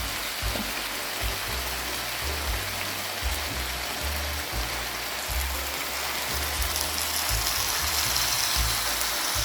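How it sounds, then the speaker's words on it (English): Water splashing steadily into a cooking pot of Jamaican country-style chicken fricassee, a continuous close pour with a bubbling, rushing texture lasting several seconds, no talk over it. "I'm going to put a little water in there."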